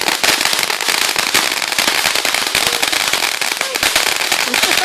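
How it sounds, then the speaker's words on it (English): Big firecrackers explode at a fireworks show in rapid, loud crackling bursts, dense popping sustained for several seconds, with people's voices faintly beneath. "That's a big old firecracker."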